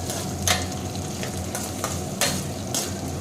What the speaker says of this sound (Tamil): இப்போ நல்லா கலந்து விட்டுடலாங்க வெங்காயம் வந்து வதங்கிட்டோம்